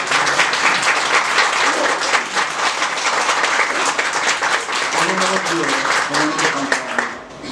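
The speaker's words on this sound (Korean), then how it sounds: "우리 저분들을 위해서 박수 한번 해주시기 바랍니다." A church congregation at a Sunday service breaks into sustained, dense applause, loud and continuous throughout, with a few voices faintly mixed in before the clapping tapers off at the end.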